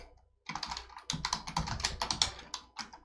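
A command being typed on a computer keyboard: a quick run of close, crisp keystrokes over a couple of seconds with a brief pause, with no talking.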